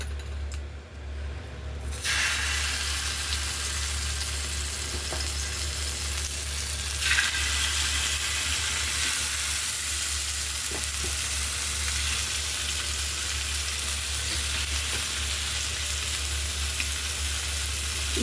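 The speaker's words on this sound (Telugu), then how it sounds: "ఇదే ప్రాసెస్లో ఇలాగ చేపలు కూడా మిగతా చేపలు కూడా వేపుకుందాం" Fish frying in a pan, giving a loud, continuous hissing sizzle that runs steadily throughout with faint pops and no voices.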